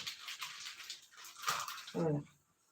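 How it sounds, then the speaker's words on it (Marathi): Water is poured into a pot to make strong tea, a steady splashing stream followed by a brief, heavier gush near the end before it falls quiet. "असं पाणी बरं टाकून द्यायचं"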